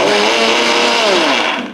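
A mixer grinder pulsing garlic into a drumstick leaf spice powder, a loud close motor whine held for a short burst that winds down at the end.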